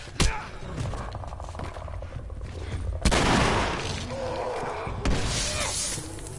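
Gunfire in the video game The Last of Us, with sharp loud shots at the start and again around the middle and end, separated by rumbling game ambience.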